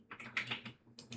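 Quick bursts of keystrokes on a computer keyboard, a few close, soft clicks in uneven rhythm with a short pause before a final flurry, quiet and with no talking.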